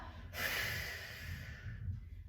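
A deep, drawn-out exhale during a pelvic floor exercise, a broad breathy rush starting after a brief pause and trailing off over about two seconds, close and fairly soft.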